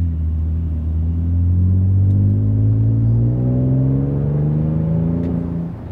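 Revving of a 2022 Toyota Tundra V6 fitted with a Carven exhaust, a loud deep rumble that climbs steadily in pitch over several seconds and then eases back, with no voices.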